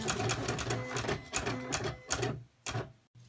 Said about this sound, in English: I'm gonna go back over to the machine and hit test cut.